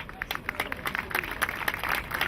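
An audience at a rally supporting Assyrians of Syria and Iraq applauds a singer; moderately distant, fairly soft clapping with scattered sharper claps, steady throughout.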